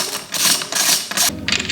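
A 10mm wrench working the brake bracket bolts on a dirt bike during a rotor and bracket install, heard as a close, continuous mechanical ratcheting and rattle with a brief pause near the end.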